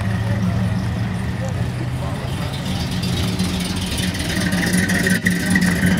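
A Chevrolet Camaro drag car sits idling in the staging lanes, its engine a steady low rumble that holds evenly throughout, with crowd and track noise around it and a voice talking over it.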